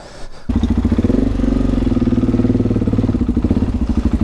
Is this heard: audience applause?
no